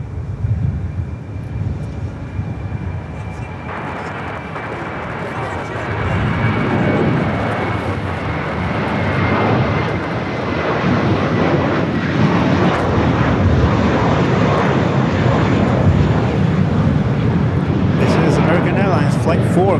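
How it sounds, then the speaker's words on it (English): Airbus A321 airliner, 11 years old, on the runway at LAX: a rising, loud jet roar that swells after a few seconds and holds steady, with people talking over it. "Flight 4 going back to JFK. 11-year-old Airbus A321."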